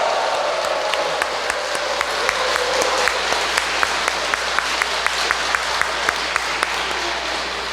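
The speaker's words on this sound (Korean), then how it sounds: "한번 환호와 박수 다시 한번 감사의 박수 드리겠습니다." A church congregation at a Korean Catholic parish retreat applauds in a sustained wash of clapping, with faint rhythmic taps running through it from start to finish.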